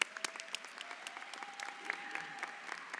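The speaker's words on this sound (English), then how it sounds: "Can we get a round of applause for them?" Audience applause at a university nursing school convocation ceremony, a steady wash of many hands clapping throughout, moderately distant and sustained without breaks.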